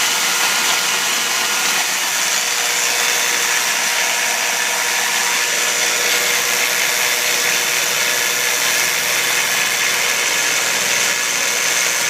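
A 240-volt 2x72 belt grinder driven by a 2 hp 3450 RPM motor runs at full speed, giving a loud, constant whirring hiss from the belt with a steady motor hum. Nothing else is heard and no one speaks.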